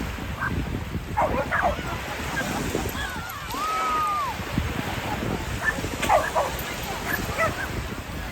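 A dog barks and yips on a breezy beach at Fort De Soto, Florida, with the bursts scattered and moderately distant over wind and surf noise while people talk nearby.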